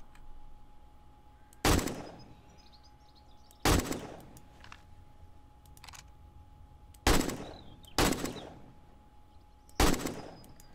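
Single AK rifle shots ring out in 7 Days to Die, five sharp cracks spaced a second or two apart over a quiet background, each loud and close with a short echoing tail.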